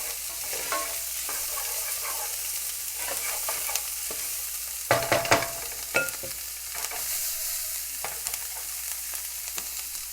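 Vegetables cook in a pan for a bariatric nacho recipe, a soft steady sizzle with scattered spatula scrapes and a brief louder clatter of stirring midway, no voices.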